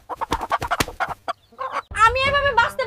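A cartoon chicken clucks in a quick, rhythmic string of sharp clucks, pauses briefly, then lets out a longer, louder squawking call, all close and clear.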